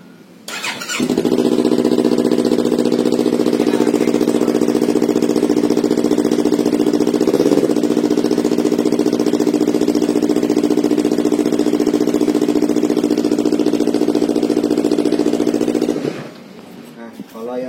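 A Yamaha R25 motorcycle fitted with a Sakura exhaust and no dB killer idles steadily and loudly close by for about fifteen seconds, a constant rumbling drone that starts and stops abruptly.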